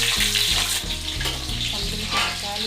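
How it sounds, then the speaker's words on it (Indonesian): Shallots frying in hot oil while cooking Batak-style mujahir fish, with a close, continuous crackling sizzle and bursts of popping, along with stirring clatter. "Kita goreng dulu bawang merah."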